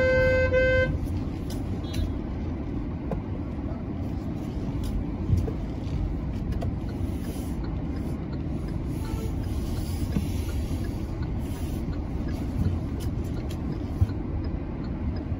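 Busy street traffic outside a market in Greater Noida, with a steady broadband roar of passing vehicles and occasional horn toots; a brief tonal honk sounds at the start, and faint voices mix in the background.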